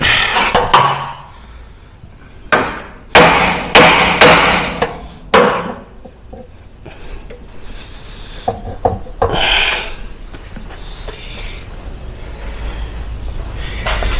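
A hammer strikes a steering part on a Jeep WJ, a cluster of sharp metallic blows near the start followed by scattered lighter knocks and clatter in a quiet workshop.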